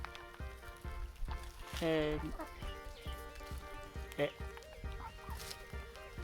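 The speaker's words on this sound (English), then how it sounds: "These are small house chicken." Small house chickens cluck in soft, irregular bursts close by, with one louder drawn-out call standing out, while a person talks over them.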